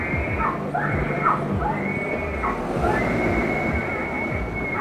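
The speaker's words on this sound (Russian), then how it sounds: "А это сигнализация." Car alarm wailing in a repeating warbling, rising and falling siren pattern, steady and moderately loud over a rumbling noisy background.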